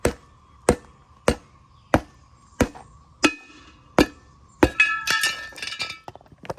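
A hammer strikes a tire with sharp metallic hits, one after another at an even pace, about eight in a row, followed by a brief clattering rattle.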